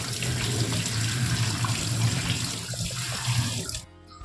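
Prawns being washed under a running tap, a steady close splashing stream with light handling sounds, stopping abruptly near the end to leave near silence.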